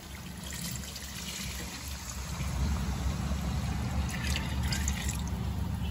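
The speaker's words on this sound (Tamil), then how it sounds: "ஸோ இப்போ அந்த தண்ணியை ஊற்றிக்கிறேன்" Water pours steadily into a pot for donne biryani, a continuous splashing trickle that grows fuller and louder partway through.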